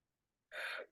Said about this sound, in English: Sorry about that big yawn.